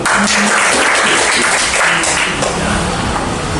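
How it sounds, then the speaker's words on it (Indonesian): Applause for a child who led a classroom prayer, a steady wash of clapping hands sustained at fairly loud level throughout, with no voices standing out. "Kita berikan aplaus kepada adik yang doa"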